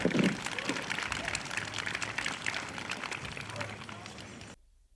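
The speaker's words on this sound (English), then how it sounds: "give them a round of applause" Audience applause at a Ho-Chunk Nation Native American celebration at St. Croix RiverFest, a dense burst of clapping from a crowd that gradually thins and stops abruptly near the end.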